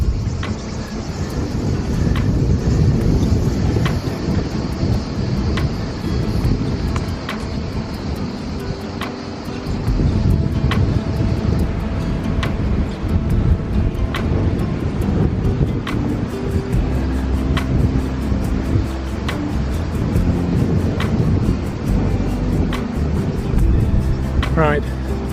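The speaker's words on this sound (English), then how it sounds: "It's a bit windy, it might not like it" Steady outdoor wind noise buffets the microphone throughout, a broad continuous rush with faint rhythmic ticking and distant water-like wash.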